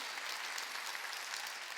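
A church congregation at a Wednesday worship service bursts into brief, dense clapping, an even, sustained patter that fills the whole moment without voices.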